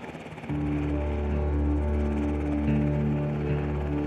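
A Coast Guard helicopter's steady engine and rotor drone starts abruptly and holds loud and close, with a constant humming tone.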